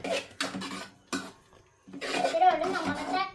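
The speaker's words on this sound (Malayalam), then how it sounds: "കുറേശ്ശെ കുറേശ്ശെ ചോറിട്ട് ഇളക്കി കൊടുത്താൽ മതി" Tomato rice being stirred in a pot in a home kitchen, with scraping and clattering utensil sounds in bursts and a pause in the middle, while people talk nearby.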